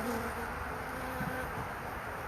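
A honeybee swarm being collected gives off a steady, low hum of buzzing close by, continuous and fairly soft, with light rustling and no talk.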